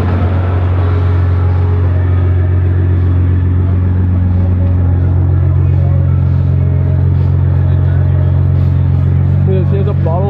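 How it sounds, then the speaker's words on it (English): A 1200-horsepower Nissan GTR fitted with nitrous idles loudly and steadily nearby, a deep, constant engine rumble with slight revving swells, while people talk over it in a busy outdoor setting. "I think you should rev it a little bit."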